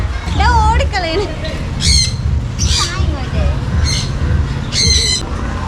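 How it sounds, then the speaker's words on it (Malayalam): Parrots in an aviary at a farm house squawk loudly and close by, with a burst of harsh calls followed by several more spaced squawks over faint background chatter. "തത്തകളും"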